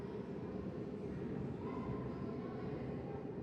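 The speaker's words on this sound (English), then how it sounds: "That's the train." A steady low rumble of a Chicago Green Line elevated train passing overhead, heard inside a campus center building, continuous and fairly even throughout, with a faint higher whine running through it.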